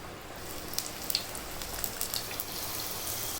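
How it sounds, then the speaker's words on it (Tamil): Raw banana bajji fry in hot oil for tea-stall style snacks, with a faint, continuous crackling sizzle and scattered small pops, and no talking. "பஜ்ஜி பொரிக்க தேவையான அளவுக்கு எண்ணெய் ஊற்றி வச்சுருக்கேன்."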